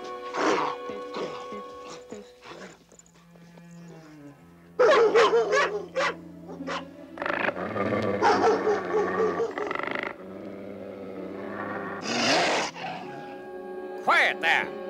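Several dogs bark, yip and whimper in excited bursts, loud and near, with people talking over them at times.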